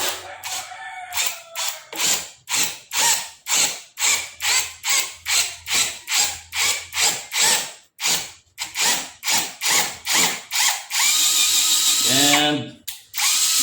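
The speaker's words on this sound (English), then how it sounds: "Let's try to tap a thread through that hole." A Nanwei cordless drill runs at low speed, tapping a 14x1 mm thread through a hole, making repeated short bursts of whirring motor and ratcheting that start and stop in rhythm, then end in a longer continuous whine with a sliding pitch.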